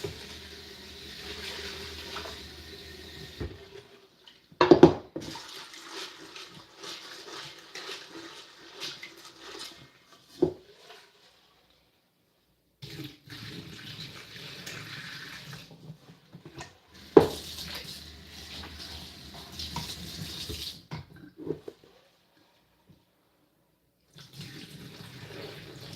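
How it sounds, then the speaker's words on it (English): White beans being rinsed under a running tap, the water flowing in steady stretches with pauses and a few sharp knocks of a pot or bowl; no talking. "I'm going to rinse the beans like this."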